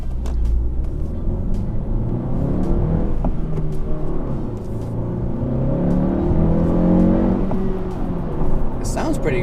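A 2017 Honda Civic Si engine revs up and hangs at high revs, a steady loud rumble that swells and eases inside the cabin, with a voice talking over it.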